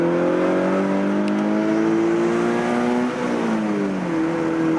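A Scion FR-S / Subaru BRZ / Toyota GT86 accelerates hard with traction control switched off, its engine note rising loudly and steadily through the revs, dipping at a shift, then climbing again, close and alone.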